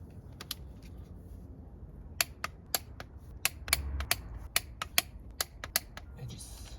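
Cylinder head bolts on a 1.9 TDI 130 engine are tightened to 48 Nm with a torque wrench, producing a series of sharp, irregularly spaced clicks over a quiet background.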